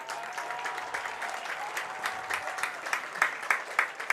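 Crowd applause at a Kaukauna home opener high school football game, a broad, steady wash of clapping from many hands that grows sharper and louder toward the end.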